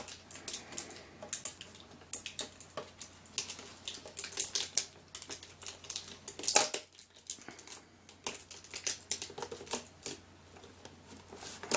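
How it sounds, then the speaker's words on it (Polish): Side tape peeled off the packaging of a GoPro Hero 3+ camera during unboxing, giving a series of close, sharp crackling rips and crinkles in irregular bursts, with no talking. "Zaczniemy od zdjęcia bocznych zabezpieczeń, którymi są taśmy."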